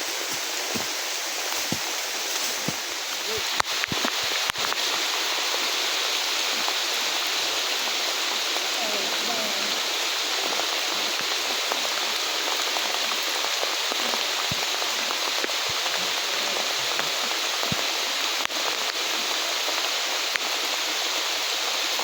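Heavy rain pours onto a farm path cleared through grass, a dense and continuous hiss. A few sharper drops and knocks rise above the wash now and then, and there is no talking.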